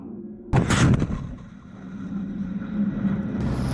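An MLRS rocket launcher fires during the NATO exercise Thunderbolt 21 in Norway, a sudden loud blast followed by a sustained roaring rumble that slowly fades into distant noise.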